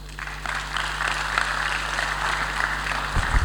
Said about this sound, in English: A better round of applause for Mr. Tunji.